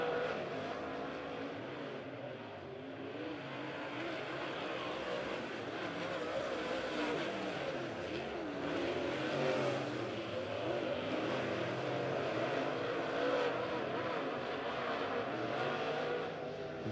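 Race cars lapping the Lebanon Midway Speedway during an A-Feature, a steady, loud engine roar that swells and fades as the cars circle the track, with no break across the whole stretch.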